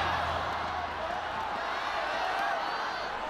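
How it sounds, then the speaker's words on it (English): Dense, continuous roar of a large arena crowd cheering at an LPL Spring 2024 esports grand final between Bilibili Gaming and Top Esports, a steady wash of voices without clear breaks. "Crowd alive and well"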